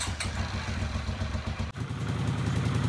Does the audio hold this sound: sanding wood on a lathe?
no